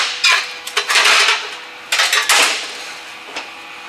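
A thin stainless steel heat shield is pried off a muffler on a 2021 Polaris RZR Pro XP, giving several sharp metallic clanks and rattles in two bursts, bright and close, with brief quiet between.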